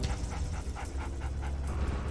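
Attack dog panting in the Red Alert 2 strategy game, a quick rhythmic run of breathy pants over a steady low background hum, with no talk.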